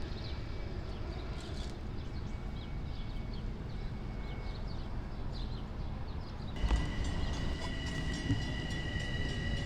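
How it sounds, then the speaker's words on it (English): Long Island Rail Road train on the Montauk Branch, cab car 5018 leading with D30AC locomotive 409 and four cars, a steady rumbling roll with rhythmic wheel clatter, a sharp jolt and brighter metallic ringing tones partway through. "Cab car 5018 leading D30AC 409 with its K5 LLA chime and 4 cars."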